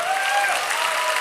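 Audience applause at a typography and accessibility conference talk, a brief, dense burst of many hands clapping, loud and steady with no voices.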